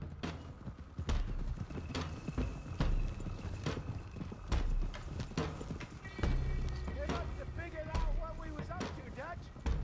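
Horses' hooves clip-clopping in Red Dead Redemption 2 as riders head out together, a steady rhythm of thuds close by, with a neigh and voices talking over the hoofbeats.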